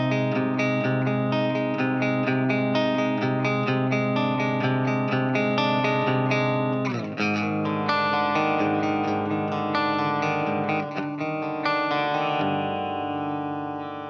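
A Fender Baritone Jaguar Custom electric guitar rings out with sustained chords and notes, loud and close. The tone changes slightly around the middle, and it plays alone with no voices.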